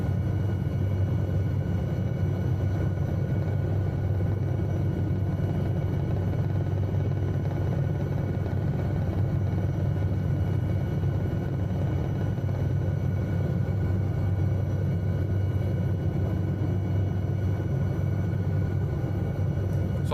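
An SA315B Lama helicopter in flight in the video game Microsoft Flight Simulator 2020, a steady, heavy low rumble and engine drone held evenly for twenty seconds, with no talking.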